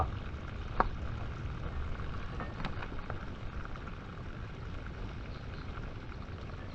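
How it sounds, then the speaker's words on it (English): Water pours and splashes steadily out of a lifted tractor front bucket on a farm in Portugal, a faint, continuous hiss like heavy rain with a couple of small knocks, no one talking. "the water's pouring out of the front bucket"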